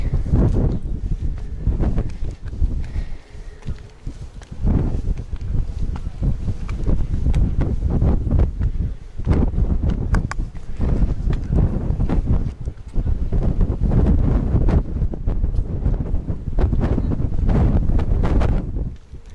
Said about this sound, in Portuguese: Está muito vento hoje.